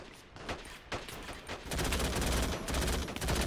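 Rapid bursts of machine-gun fire from a Call to Arms battle in an Afghan village, staccato shots growing denser and louder after the first second and a half into sustained overlapping gunfire, with no talk.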